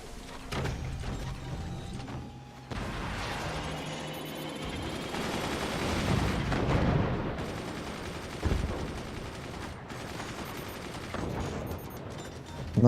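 Dense, continuous gunfire and mechanical clatter from the Forts video game, with an EMP sniper and mortar fire. The battle noise runs loud throughout, with sharper bursts and impacts layered over a steady mechanical din.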